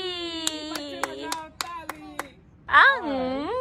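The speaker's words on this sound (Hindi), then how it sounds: "बच्चे बजाओ ताली" Children clap hands at a birthday celebration, a series of sharp individual claps in an irregular rhythm mixed with sung voices, followed by someone speaking.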